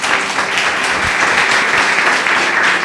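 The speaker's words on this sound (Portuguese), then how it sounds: "Louve a Deus com as suas palmas." A congregation claps their hands in praise at a worship service, a loud, dense, continuous burst of applause from many people filling the space.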